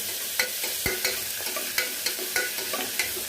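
Rice bath ingredients fry with a constant hiss in a pan while a spoon stirs them, tapping the pan in steady, evenly spaced clicks, close and alone.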